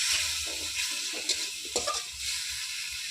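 Chicken pieces with turmeric fry and get stirred in a hot pan, a continuous sizzle broken by a couple of scraping stirs, close and alone without talk.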